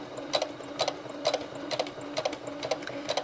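A sewing machine stitching fabric for a toy rocking horse, run slowly in short regular bursts of rapid clatter, roughly eight runs in quick succession, close and clear with no voices.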